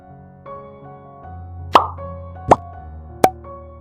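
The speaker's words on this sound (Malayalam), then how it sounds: "അതിനുശേഷം നമ്മൾ നേരത്തെ മാറ്റി വെച്ചിരുന്ന കുതിർത്തെടുത്ത കടലപ്പരിപ്പ് കൂടി ചേർത്ത് നന്നായി ഒന്ന് മിക്സ് ചെയ്തെടുക്കാം" Soaked chana dal is stirred into spiced Kerala-style parippu vada batter, giving three sharp, wet plopping slaps about a second apart over a soft, steady tonal background.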